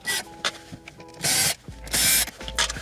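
Screws are backed out of the dash to free the factory radio in a 2009–2010 Nissan Murano, heard as a few short bursts of a close power driver whirring, separated by quiet rubs and clicks.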